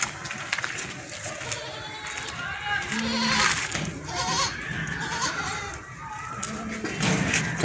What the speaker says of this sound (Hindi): और एक ये पटेरा नस्ल बकरी है, पटेरा का बकरा है